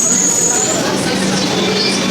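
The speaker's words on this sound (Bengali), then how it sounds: "আবার মেট্রো ইজ কামিং।" A Kolkata metro train pulling into the station, a loud sustained rumble and high metallic whine filling the platform, with voices talking over it.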